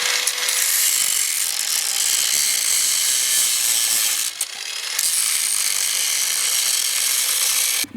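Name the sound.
cutting across seam of Porsche 996 exhaust muffler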